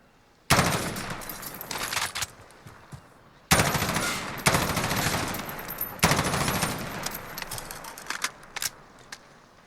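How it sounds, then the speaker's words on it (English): Three long bursts of fully automatic M16A3 rifle fire from Call of Duty Modern Warfare, loud and close, each rapid-fire stream lasting a couple of seconds with short pauses between and brief trailing shots. "So this is the fully automatic variant of this weapon."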